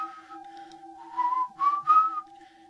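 Steady tonal whistling with a wavering melodic line, heard alone with no talk, sustained across the clip and swelling louder in brief phrases near the end.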